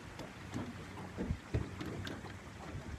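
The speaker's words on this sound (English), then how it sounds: "I'm going to come up to it and control the motor back on low." A boat motor idling on low while fishing for largemouth bass, with a faint steady hum, soft water sounds and a few low thumps, quiet and alone.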